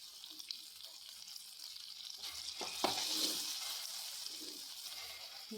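Popcorn kernels sizzling in melted butter, sugar and milk in a pan: a steady frying hiss, with a few light clinks and scrapes from stirring that swell midway, close and fairly quiet.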